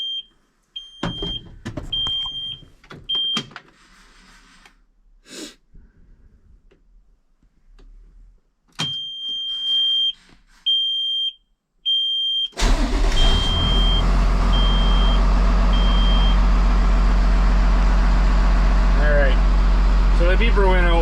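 A heavy truck's engine cranks and fires up after a series of short electronic beeps and warning chimes with gaps of quiet, then settles into a loud, steady idle.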